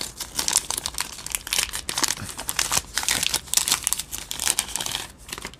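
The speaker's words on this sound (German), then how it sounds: "Ich will jetzt die Tüte hier nicht zu sehr zerreißen" A plastic bag of chocolate cinnamon cookies is crinkled and torn open, with continuous close, irregular crackling and rustling and no talking.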